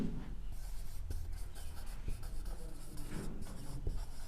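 Chalk or marker writing on a classroom board, a steady scraping and tapping of strokes heard up close over a constant room hum.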